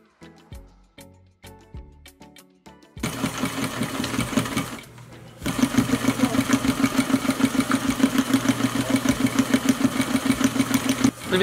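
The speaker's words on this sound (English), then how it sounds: "I'm going to go ahead and stitch these all together" A sewing machine stitches ballgown bodice seams, starting with a few short clicks and bursts, then running in a loud, steady rhythmic whirr after a brief pause.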